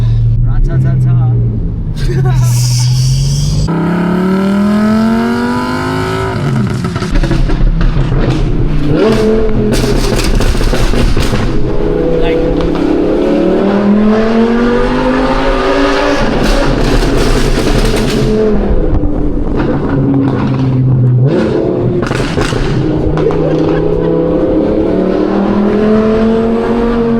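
An Audi R8 V10 with an aftermarket exhaust revs repeatedly up to about 7,000 rpm, loud rising engine sweeps climbing and falling in several pulls, with people talking over it.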